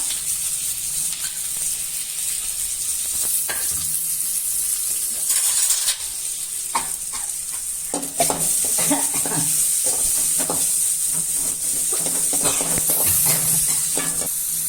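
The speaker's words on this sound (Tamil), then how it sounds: "சேர்த்து எல்லாம் ஒரு வதக்குங்க. வதங்கட்டும்." Onion, garlic and green chilli sauté in a pan for a spinach poriyal, giving a constant loud hiss of frying with scraping and tapping from a spatula stirring throughout.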